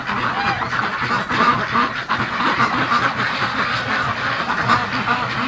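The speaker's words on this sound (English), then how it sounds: "This is a freaked out flock of ducks right now." A panicked flock of free-range ducks quacks nonstop, many overlapping calls forming a dense, loud, agitated chorus from birds crowded together close by.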